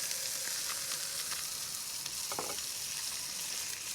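Lake trout fries in a pan with butter on low heat, giving a steady, bright sizzle, with a metal spoon basting and occasionally scraping, close and without talk.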